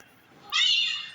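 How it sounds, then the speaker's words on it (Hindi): A single drawn-out cat meow, close and fairly loud, rising out of quiet background noise during a scuffle between a cat and a monkey. "और ये शामिर म्याऊं म्याऊं कर रहा है।"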